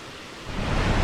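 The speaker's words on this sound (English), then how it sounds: "There's nothing quite like an upland stream, and to hear the rush of water is so satisfying." Water rushes along an upland brook in the Staffordshire Moorlands as a dense, steady hiss that swells slightly louder over about a second, heard alone and close.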